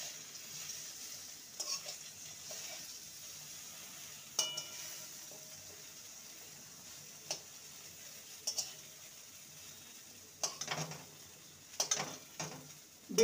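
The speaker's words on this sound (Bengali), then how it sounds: "বেগুনটাকে 2 মিনিট ভেজে নেব।" Salted, turmeric-coated brinjal pieces fry in oil after the tempering, giving a soft, quiet sizzle with intermittent spatula clicks and pan scrapes as they are stirred and turned.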